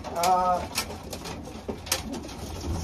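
Racing pigeons coo softly in a loft, with a few soft calls and rustling against a constant background hum.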